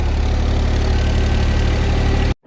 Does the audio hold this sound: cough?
no